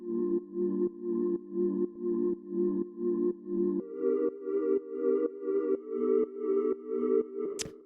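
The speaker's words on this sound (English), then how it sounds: "the first sound I've got here is this chord synth," A chord synth for jazzy house music at 123 BPM repeats short pulsing chords in a steady rhythm, shifting to a higher chord midway, alone and fairly quiet, ending with a brief bright click.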